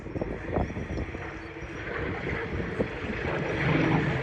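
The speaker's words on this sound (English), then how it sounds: "has started work on a 36-litre V12, and that's what you're listening to now. This is not a Merlin, this is a Griffon." A Rolls-Royce Griffon 36-litre V12 aircraft engine runs with a steady, broad rumbling drone, fairly loud and continuous, with wind buffeting the microphone throughout.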